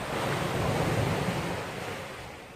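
Ocean surf washes steadily at Limasawa Island, a broad continuous roar of waves with a wind-like hiss, loud and close throughout with no talking.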